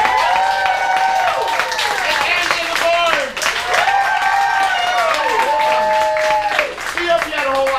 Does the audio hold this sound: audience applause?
yes